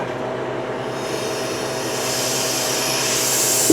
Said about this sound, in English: So that released that vacuum